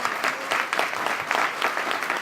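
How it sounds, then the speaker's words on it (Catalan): Dense audience applause at a live theatre-radio show, steady and fairly close, with many hands clapping at once for the whole stretch. "Un fort aplaudiment, sisplau."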